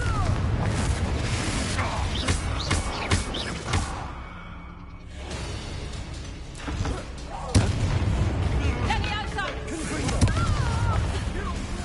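A Confringo blasting spell explodes in Hogwarts Legacy, with dense booms and whooshing combat effects among game music and character voices, loud and continuous with a brief lull midway.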